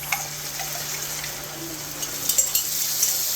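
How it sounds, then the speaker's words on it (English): Beef broth and spices poured into a pan of browned ground beef for goulash, giving a steady low sizzle and frying crackle with a few small splashes and clicks near the end, no talk. "We're going to go ahead and add in our beef broth along with our spices."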